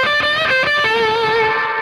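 Final sustained electric guitar note with a distorted tone, the pitch shifting slightly before ringing out into a smooth reverb tail that fades gradually.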